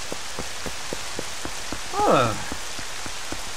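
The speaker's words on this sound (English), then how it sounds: "Can we calm down with the rain, please?" Steady, heavy rain patters continuously in The Legend of Zelda: Twilight Princess, with small drop ticks throughout and a brief vocal exclamation partway through.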